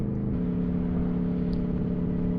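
Aprilia Tuono 1100 Factory 2021 motorcycle engine holding a high, steady rev with a continuous buzzing drone and wind noise as it rides, no voices.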